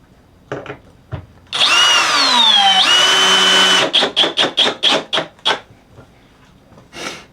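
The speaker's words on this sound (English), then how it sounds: "and then pre-drill everything" A power drill whines steadily while pre-drilling 2x4 lumber for a couple of seconds, then several short, rapid trigger bursts follow, with a few taps before and after.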